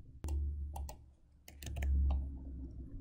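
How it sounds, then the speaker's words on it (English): A handful of crisp computer mouse clicks, close and fairly quiet, clustered irregularly over a low background hum. "I'll click on confirm"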